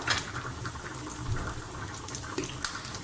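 Onions frying in a pan with mixed herbs being added, a steady soft sizzle and bubbling hiss running evenly throughout with a few small pops, close and moderately quiet, no talking.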